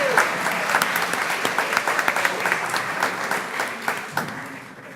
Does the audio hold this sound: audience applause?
yes